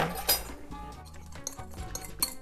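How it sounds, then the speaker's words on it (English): A spoon clinking against a bowl while flour is added to Filipino lumpia filling, a few bright, close metallic taps scattered over a couple of seconds, with faint background noise. "I'm going to put a little tiny bit more of flour, so that is half a tablespoon"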